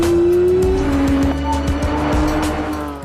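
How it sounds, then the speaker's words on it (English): Porsche 911 GT3 RS at full throttle, the high engine note falling away at a quick PDK upshift then climbing again, loud and close with tire noise beneath. "In a full throttle upshift, the transmission shifts from one gear to the next in less than 100 milliseconds."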